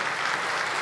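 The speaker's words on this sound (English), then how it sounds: "Now, applause." Audience applause fills a tech keynote hall, a brief, dense wash of clapping at steady loudness.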